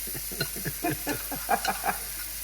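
Sauce poured into a hot pan of chicken and broccoli, a soft steady sizzle with a series of light scraping stirs and small bursts of spitting, faint and close.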